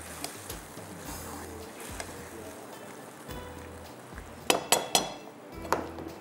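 A spoon scrapes and clinks against a pan while capsicum is mixed into rice, a few soft scrapes early on and then a cluster of sharper metallic clinks near the end, close and fairly quiet.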